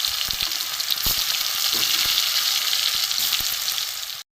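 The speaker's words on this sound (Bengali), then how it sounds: "এবার কড়াইতে তেল আছে, আমি আর তেল দেবো না, এই তেলেই রান্না করবো। আমি সেদ্ধ করা আলু ছিল আমি ভেজে নেব।" Boiled potatoes frying in oil in a wok, a steady loud sizzle running throughout with a few soft clinks of a utensil, no voices.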